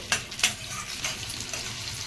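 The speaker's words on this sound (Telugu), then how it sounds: "ఈ మీడియం ఫ్లేమ్లో దోరగా వేయించుకోవాలి." Ivy gourd (dondakaya) pieces frying in hot oil over a medium flame, a soft steady sizzle with a couple of sharp stirring clinks near the start.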